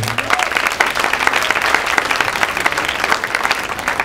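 Audience at a producers' panel with director Roger Kumble applauds: dense, continuous clapping from a room full of people, fairly loud and even, with no talking on top.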